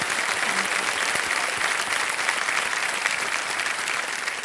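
A studio audience at a TV quiz show breaks into sustained applause, dense steady clapping filling the room at an even level with no talking over it.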